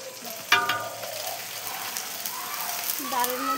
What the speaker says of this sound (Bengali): আদা, শুকনা মরিচ আর ওই কড়ি পাতা, কড়িপাতি সব ভাজা হচ্ছে